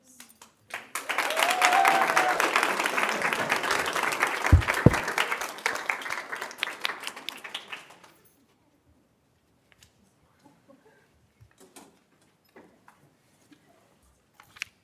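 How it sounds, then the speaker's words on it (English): A roomful of people at a school governing board meeting applauds for third graders, clapping briskly for several seconds before the sound cuts off, leaving near silence with a few faint taps and small noises. "Can we please give our third graders another round of applause?"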